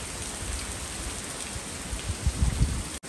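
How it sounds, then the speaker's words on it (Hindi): Heavy rain falls steadily as a dense, loud, continuous hiss, with a few low thumps near the end and no voices. "आज तो मौसम ठंडा होगा, बारिश का मौसम है"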